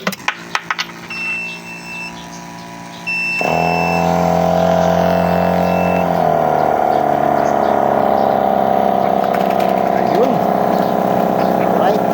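Homemade DIY foaming machine for shampoo switched on for testing: after a few clicks and a voice, a loud steady motor whir and hum starts and runs continuously, close by, with faint talking over it.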